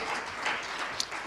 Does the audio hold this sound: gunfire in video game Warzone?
no